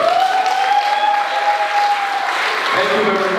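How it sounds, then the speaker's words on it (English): At a summit finals event in a hotel, an audience applauds loudly and continuously, with cheering voices and a sustained tone riding over the clapping. "Can you clap for yourself?"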